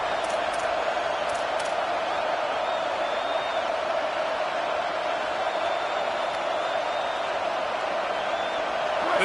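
A packed Alabama Crimson Tide football stadium makes a steady, loud roar of crowd noise on third down at Saban Field, a constant distant rumble with a few whoops rising from the stands.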